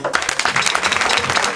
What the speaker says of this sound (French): Vous pouvez applaudir Naël.